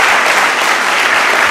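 A church congregation claps together in a brief, steady burst of loud applause, dense and continuous with no voices standing out.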